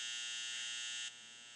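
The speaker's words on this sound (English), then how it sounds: "This beep is my dryer." A clothes dryer gives a single sustained electronic beep, loud and steady for about a second, then cuts off and leaves a faint tail in a quiet room.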